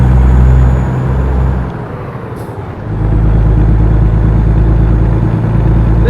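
Truck engine in American Truck Simulator revving loudly, dipping briefly, then rumbling steadily as the rig pulls away, a continuous low heavy drone throughout.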